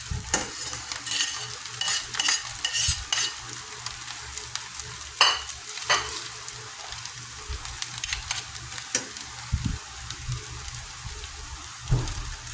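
Tofu fries in a pan for ampalaya con tokwa and is stirred now and then, making a steady crackling sizzle. Sharp scrapes and clinks of the utensil come and go, with no talking.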